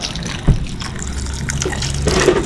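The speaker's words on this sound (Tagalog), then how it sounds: "lagyan natin ng konting tubig" Water poured from a container into a cooking pot while seasoning a provincial-style dish with salt and vinegar, a steady close splashing and trickling that swells near the end, with no talk over it.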